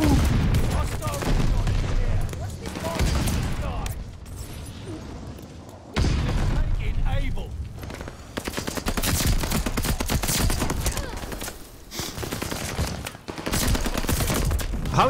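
Relentless gunfire in Call of Duty: Vanguard on the Shipment map, long bursts of rapid automatic shooting broken by short lulls, loud and close throughout.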